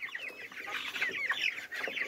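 Four-week-old chickens on a farm cluck and chirp in a busy, overlapping chorus, close and moderately loud, with no talking.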